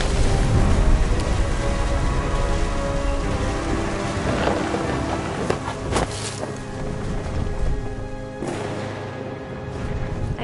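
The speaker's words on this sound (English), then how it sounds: "The thunder sounded much too close and full of angry power." Heavy rain pours steadily with rumbling thunder in the video game What Remains of Edith Finch, a dense continuous storm wash that fades slightly toward the end, with no voices.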